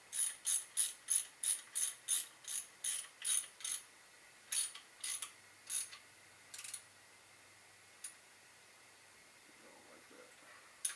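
Ratchet tightening a bolt on a GM 3800 V6 engine during a head gasket job: a close run of sharp, evenly spaced clicking strokes that slow and thin out, then stop with a few isolated clicks.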